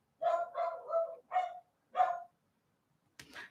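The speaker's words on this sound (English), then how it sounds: "Give me a second for the household to calm down and I will continue." Household dogs bark in a quick run of four or five loud, close, excited barks, with a short pause before a final sharper yelp, no talking over them.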